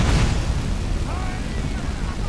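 Spell fired from both hands at once in Skyrim, a loud explosive burst at the start that rolls into a rumbling tail over steady game noise, with someone talking over it.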